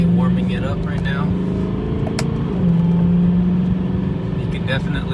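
A BMW M3 engine drones low and steady while being driven and warmed up, with a brief swell in revs midway, heard from inside the car over road noise.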